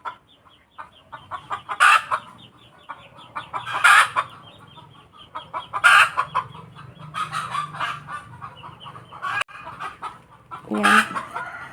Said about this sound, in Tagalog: Ako si manok na maingay.